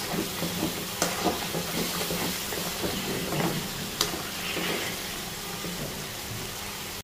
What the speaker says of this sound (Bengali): এখানে হচ্ছে মাটন রান্না